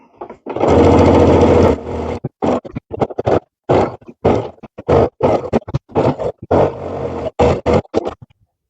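A sewing machine stitches an appliqué down close to its edge on a Halloween pillow, with a sustained motor run and then many short, choppy bursts of stitching, close and fairly loud, with no talking.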